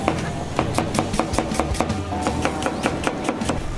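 Onions chopped with a knife on a board, a quick, even run of sharp close knocks, about four per second, sounding alone without talk.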